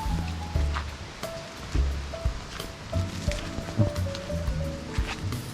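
Flowing water of a stream along a grassy trail leading to Panilang Falls makes a steady, moderately distant rushing hiss, with light rustling and a few thin, high tonal calls over it.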